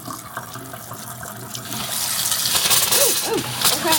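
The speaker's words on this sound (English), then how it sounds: "No, I'm just running cold water." Water runs steadily from a tap, a constant hiss that swells louder partway through, with faint clinks and gurgles.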